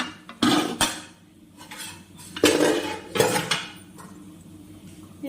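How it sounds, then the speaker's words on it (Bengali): A metal lid comes off a pot of Gobindobhog rice pulao, with a few sharp clanks and scrapes of metal on metal, close and fairly loud. "5 মিনিট পরে ঢাকনাটা খুলে নিলাম"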